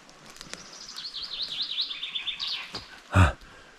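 Birds chirp overhead in a forest in the Beskids, a quick warbling run of high notes, moderately close, followed by a single sharp thump near the end.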